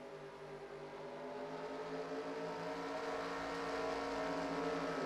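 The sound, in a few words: race cars restarting at the green flag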